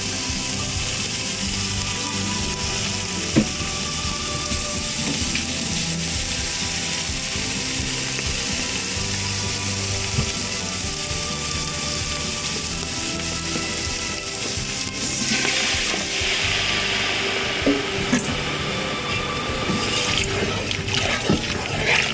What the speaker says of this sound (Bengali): এখন একটু পানি দিয়ে কষাবো।